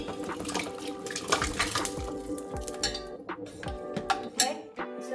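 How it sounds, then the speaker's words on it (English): Pieces of pork go into a pot of warm, prepared water at a home stove, with close sloshing, splashes and clinking of dishes and utensils, in irregular bursts. No speech. "And then I put it into the warm water I prepared."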